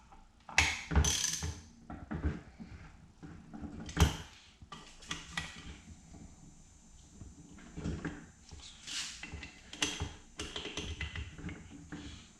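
A ratchet snugs up the bolts on a Brembo 4-piston brake caliper during a rebuild, giving close, crisp bursts of rapid clicking broken by pauses and a few sharp knocks, with no talking.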